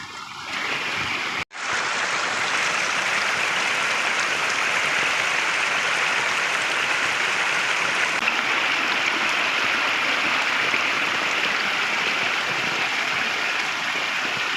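A rain-swollen river in Konkan rushes in flood over a bridge, a loud, steady roar of churning water filling the whole clip after a brief cut near the start, with no talking.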